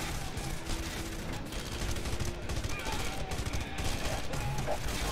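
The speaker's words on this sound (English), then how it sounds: "Who's shooting at me?" Dense, continuous gunfire from enemies in Red Faction Guerrilla Remastered, a steady rattle of rapid shots layered over a loud, busy mix of game noise with no pauses.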